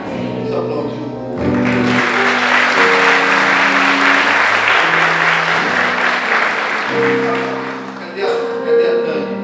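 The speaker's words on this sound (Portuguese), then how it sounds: "Vamos aplaudir." A church congregation applauding at a morning service, a dense sustained wash of clapping that swells loud and steady for several seconds, with sustained musical tones ringing underneath throughout.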